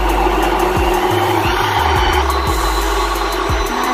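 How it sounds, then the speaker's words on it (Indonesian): A kitchen blender runs continuously, pureeing cooked pumpkin with black pepper into a smooth soup, a steady loud whirring motor drone with faint low knocks throughout. "Kita blender sampai halus ya guys."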